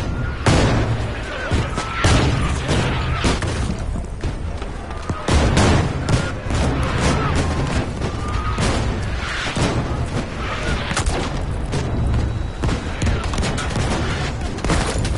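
Frag grenade rifle fire in a shooter video game, loud dense bursts of gunshots and booming blasts packed across the whole stretch, with other battle noise in between.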